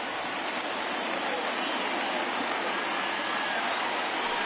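Large baseball stadium crowd of some 29,000 rising to its feet in the ninth inning of a Giants–Phillies game, a steady, dense roar of cheering and applause filling the whole stretch without letup.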